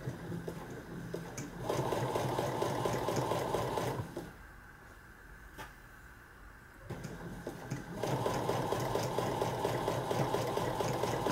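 A sewing machine stitches a make-up bag seam in two steady whirring runs, with a quieter pause between them broken by a faint click.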